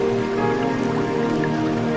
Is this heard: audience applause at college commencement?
no